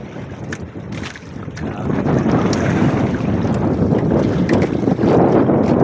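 Loud wind roars over rough water, with waves slapping and surging around a moving boat in heavy, continuous noise.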